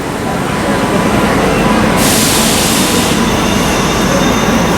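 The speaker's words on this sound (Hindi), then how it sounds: "राजधानी अराइवल ले रही है।" A Rajdhani express train rushes past on an adjacent track while the observing train waits at a crossing, a loud, steady rail roar with a brighter hiss rising partway through and continuing to the end.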